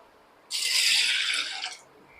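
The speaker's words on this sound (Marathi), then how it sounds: "सर्वात अगोदर आपल्याला ही डाळ स्वच्छ पाण्याने धुवून घ्यायची" Clean water poured over half a bowl of toor dal for washing: one steady, hissing pour lasting just over a second, then quiet.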